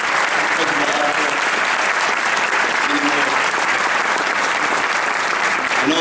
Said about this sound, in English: please just stand real quick so we can give you a round of applause